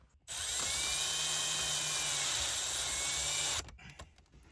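A power drill drives self-tapping screws into a center console accessory mount in a 1996-2002 third-generation Toyota, a loud, steady close whine lasting about three seconds before cutting off, with no talk.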